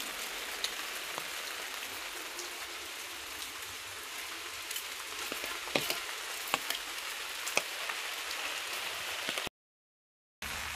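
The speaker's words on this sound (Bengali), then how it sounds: "আর এদিকে বৃষ্টি হইতেছে, আমরা ছাতা নিয়ে লইছি।" Rain falls outdoors on the way to a temple in rainy weather, a faint, steady hiss with scattered drop taps that briefly cuts out near the end.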